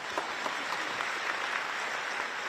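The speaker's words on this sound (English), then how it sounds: "big round of applause for the legendary Mr." Steady audience applause after a keynote at a technology show in Paris, even continuous clapping from a large crowd heard at a moderate distance.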